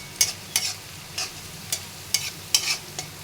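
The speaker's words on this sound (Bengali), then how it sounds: "এখন তেলের মধ্যে মশলা, এই পেঁয়াজ রসুন মরিচটা খুব ভালো করে একটু ভেজে নিব" Onion, garlic and chili frying in oil for bitter gourd bhaji, heard as close, rhythmic spatula strokes over a hot pan, about seven sharp sizzling scrapes spaced evenly apart.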